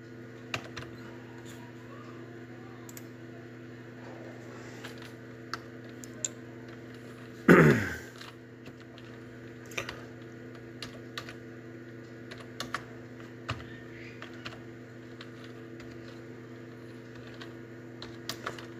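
Sparse typing on a computer keyboard while working in Microsoft Word: scattered light key clicks over a steady electrical hum, with one louder knock partway through and no talking.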